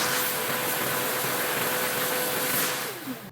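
A vacuum cleaner runs steadily throughout, pulling excess dust off a rug after trimming, with a continuous close motor whine and airflow hiss at a constant level. The sound tails off slightly near the end.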